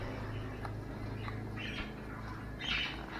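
Birds give a few faint, scattered chirps and squawks over a low, steady indoor hum, quiet and somewhat distant, with no voices.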